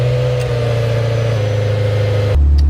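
Ferrari 348 Spider with a 3.4-liter V8, its engine running at a steady loud drone with a low hum, then a sudden shift in tone near the end as it settles or blips.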